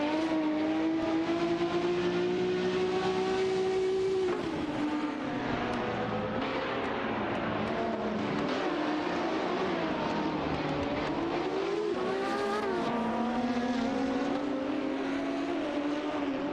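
A Ferrari 512 S and a Porsche 917 race in a video game, with high-pitched engines screaming steadily, shifting pitch through gear changes and overlapping as the cars duel closely, with no voices.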